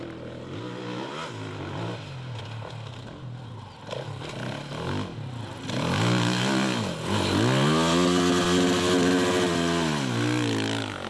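Enduro motorcycle engine revving hard during a World Championship race in Spain, a rasping two-stroke-like drone rising and falling through repeated throttle blips, growing louder and steadier in the second half, heard alone without voices.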